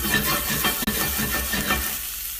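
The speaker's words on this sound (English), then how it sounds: "we're just gonna blister these cherry tomatoes in them" Cherry tomatoes blistering in a hot pan of oil, giving a steady close sizzle and frying crackle with soft stirring scrapes, fading slightly near the end.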